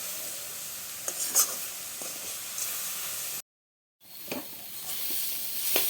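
Amla rice is stirred in a pan on a gas stove, with soft sizzling hiss and scattered spoon scrapes and clicks close by, broken by a brief silent gap.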